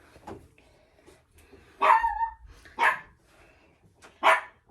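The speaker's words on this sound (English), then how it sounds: "I'll put you down now, dog, but you gotta quit barking at Grandma's customers" A small pet dog barks indoors in short, loud bursts, about four sharp barks spaced out over quiet room noise.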